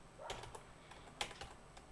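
Computer keyboard typing a Docker images command, a short burst of quiet, close keystrokes in two small clusters with a brief pause between.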